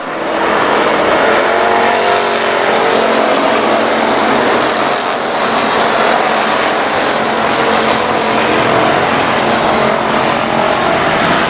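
Race cars roaring continuously around I-37 Speedway, a loud, dense engine drone from several cars circling the oval with no break or pause.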